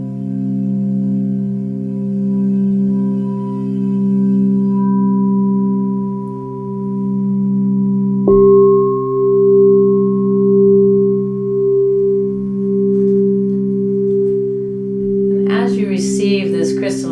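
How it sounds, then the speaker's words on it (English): Crystal singing bowls played for a sound meditation sustain layered, pure ringing tones with slow beating, a new higher tone joining midway, and a voice begins speaking softly over them near the end. "Receive this crystalline sound,"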